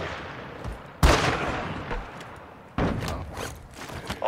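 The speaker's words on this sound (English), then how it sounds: "I'm taking enemy fire!" Gunfire in Call of Duty Warzone 2.0 strikes in two sharp, loud bursts about two seconds apart, each trailing off into a rumbling, echoing decay.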